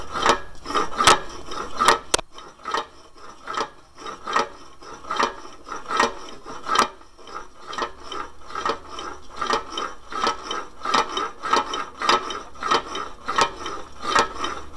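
Jacobsen 800 engine-powered can crusher running with its two-stroke cylinder, crank and flywheel in motion: a steady rapid mechanical rasping and clattering with sharp metallic ticks, close up and fairly quiet, no talking.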